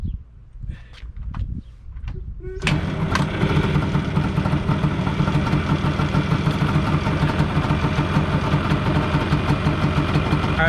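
A Yamaha Banshee ATV engine, a rebuilt two-stroke, starts after some clattering and footsteps and then idles loudly and steadily close by with a rough, busy rattle.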